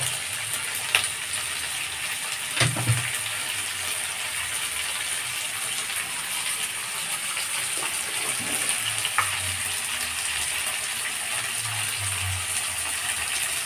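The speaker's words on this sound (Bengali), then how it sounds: "একদম কড়া করে ভাজবো না, জাস্ট একটু সতে করতে হবে।" Chicken pieces sautéed lightly in a pan for dry chili chicken give a steady close sizzle, with occasional scraping stir strokes and soft clinks rising above it.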